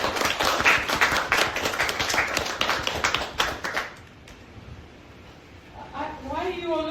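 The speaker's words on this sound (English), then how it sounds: "So big round of applause." Audience applause at a House of Lords talk on AI: dense, sustained clapping from a room full of people for about four seconds, then fading out as a speaker begins talking.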